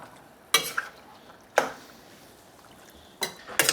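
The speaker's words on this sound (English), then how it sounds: "Make sure you stir this stuff up" A spoon scrapes and clanks through store-bought pasta sauce in a pot with three distinct stirring strokes spaced about a second apart, close up, with quiet kitchen background between them.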